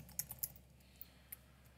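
Several quick keystrokes on a computer keyboard while a password is typed into a Linux Mint login screen in VirtualBox, a brief burst of soft clicks followed by two isolated taps, faint and close with no talking.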